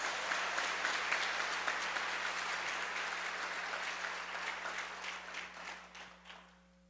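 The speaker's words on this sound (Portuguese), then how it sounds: "Aplauda Jesus Cristo." A church congregation applauds during a Portuguese-language worship service, with dense clapping that stays strong before thinning out and fading near the end.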